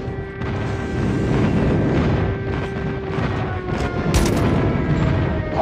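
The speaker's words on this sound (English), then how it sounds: "Friendly airstrike incoming." Airstrike explosions in the mobile shooter Call of Duty Mobile during a Halloween Standoff hardpoint match, a dense, continuous roar of booms and rattling fire lasting throughout, loud and close with no talk.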